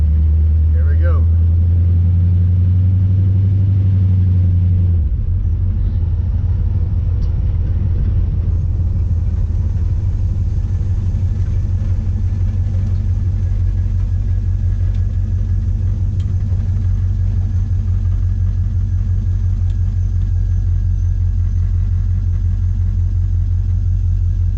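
A 1980 Chevy Camaro, a former racecar rebuilt as a custom street car, idles loudly, then is driven down the road at night. A deep, steady engine rumble and road drone fill the cabin at close range.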